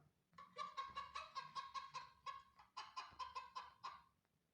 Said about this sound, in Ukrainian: Курка кокоче або кудахче.